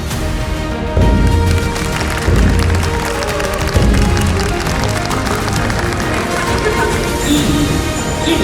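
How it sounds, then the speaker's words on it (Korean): Loud, steady applause from a crowd at a KOSDAQ stock listing ceremony, dense clapping that carries on without a break, with a few voices mixed in. "축하의 박수를 부탁드리겠습니다."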